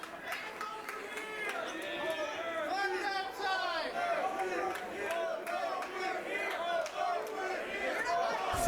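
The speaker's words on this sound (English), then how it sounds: "This crowd is wild." A wild crowd at a deathmatch wrestling show roars and chants continuously, dense overlapping shouts and cheers filling the arena, loud and close throughout.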